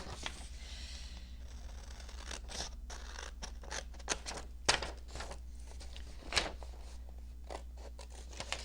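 Scissors snip through a book page in a quiet room, a series of short, crisp cuts at irregular intervals, close and fairly soft.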